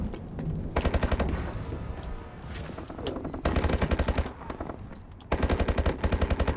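Automatic Sn6 hip fire in Call of Duty: Advanced Warfare, several loud sustained bursts of rapid gunshots separated by brief pauses with quieter game noise between, no talking.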